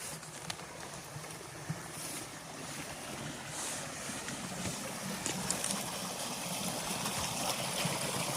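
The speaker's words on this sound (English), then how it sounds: "I can hear the sound of running water, which sounds a lot faster coming up this way." Running water of a stream in an outdoor woodland, a steady broadband rush that holds throughout, fairly distant with some wind noise and no voices.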